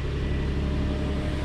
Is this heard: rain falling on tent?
no